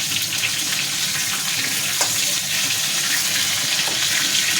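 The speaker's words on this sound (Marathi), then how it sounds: "थोडंसं आपण फ्राय करून घेणार आहे त्यानंतर आपण पाणी टाकून घेणार आहे" Masala-stuffed brinjals fry in oil in a pan, a loud, close, dense sizzle and hiss that holds steady throughout with a few faint clicks and no voices.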